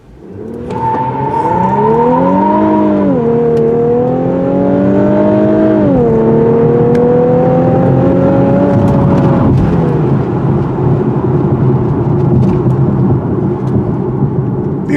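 A 300-horsepower 2017 Infiniti Q50 sedan accelerating hard from a standstill, loud and close, its engine note climbing steadily through several upshifts before settling into a sustained roar.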